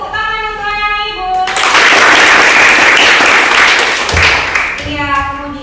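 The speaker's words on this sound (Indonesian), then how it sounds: "Tepuk tangan untuk anak Ibu." Classroom applause for a student, a burst of many children clapping that starts after a teacher's voice, holds loud and dense for a few seconds, then fades as the teacher resumes speaking.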